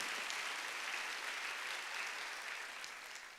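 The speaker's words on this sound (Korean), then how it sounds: "깨달은 사람만 박수쳐요." Congregation applause during a Wednesday church worship service, a dense, continuous clapping from many people at moderate level, tapering slightly toward the end.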